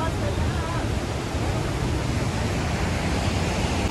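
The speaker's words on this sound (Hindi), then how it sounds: "यहाँ से भी सुनोगे ना तो पानी की आवाज़ आ रही है पत्थरों के अंदर से भी।" Steady broadband rush of water flowing beneath rocks in a mountain river on the Manimahesh pilgrimage route in Himachal Pradesh, a continuous loud hiss with no pauses.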